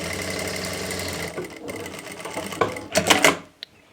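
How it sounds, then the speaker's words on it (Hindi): A sewing machine stitches the leg seam of palazzo trousers, running in a loud, rapid mechanical chatter that pauses briefly and then resumes in a few quick bursts before it stops with a final clunk. "इस तरह से हमने दोनों पैरों पे सिलाई लगा लेनी है।"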